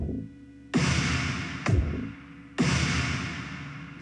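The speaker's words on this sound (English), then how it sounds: "I just got a simple drum beat backing it." A simple programmed drum beat in FL Studio, kick and snare hits: three sharp punchy strikes spaced evenly with decaying tails, clear and alone with no voices.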